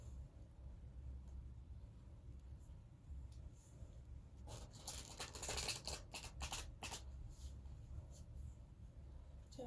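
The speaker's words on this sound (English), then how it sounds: "And shuffle a few more times." Tarot cards being shuffled by hand, a faint soft riffling patter that builds into a brief flurry of quick crisp card flicks midway before settling, heard alone and close in a quiet room.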